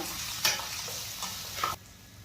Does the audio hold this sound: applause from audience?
no